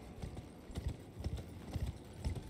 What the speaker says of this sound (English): let's ride our horse out of here